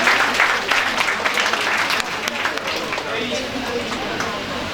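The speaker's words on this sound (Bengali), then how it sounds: "হাততালি সবাই।" Audience applause fills a prize distribution ceremony, with a dense, steady clapping from a crowd continuing throughout at a fairly even level.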